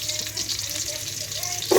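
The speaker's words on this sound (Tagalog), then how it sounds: "So habang ginigisa natin si sibuyas, luya at bawang" Onion, ginger and garlic sauté in a hot pan with a steady, close sizzle and light stirring, swelling louder near the end; a faint voice can be heard underneath.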